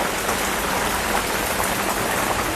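Heavy monsoon-season rain falls steadily and densely, a continuous loud hiss of drops drumming on surfaces with no break and no voices.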